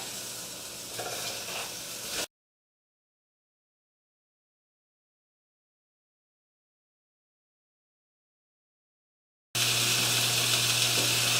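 Meatballs browning in a pan give a steady, close hissing sizzle with a faint clatter, heard in two stretches separated by a long silent gap.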